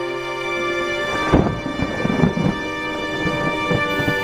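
Heavy nighttime rain hisses steadily while deep thunder rumbles swell through the middle, with a few louder crackling bursts over the continuous downpour.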